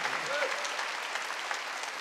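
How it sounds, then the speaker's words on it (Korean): A congregation claps at a church worship service, a thick continuous wash of applause filling the whole moment at moderate, even loudness. "박수"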